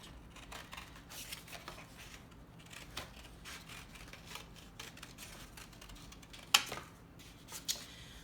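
Scissors cut a circle out of cardboard in faint, close snips and rasps with an uneven rhythm, ending in a couple of sharper cuts.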